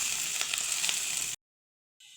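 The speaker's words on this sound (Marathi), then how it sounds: "सर्व भाज्या फ्राय झालेल्या आहे" Carrot, capsicum and cabbage stir-frying over a full gas flame make a steady, bright sizzle that stops abruptly, goes silent, then returns.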